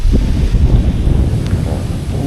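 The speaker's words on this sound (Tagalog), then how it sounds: "Hangin, ang sarap ng hangin." Steady, loud wind buffets the microphone with a constant low rumble throughout, and no one speaks.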